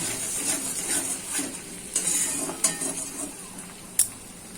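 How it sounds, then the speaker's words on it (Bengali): Eggs being broken up and stirred in a kadai for homemade Bengali chow mein, with a utensil scraping and tapping the pan in irregular strokes over a faint frying sizzle, one sharp clink near the end. "একদম ঝুড়ো ঝুড়ো করে দেবো ডিমটা ফাটিয়ে"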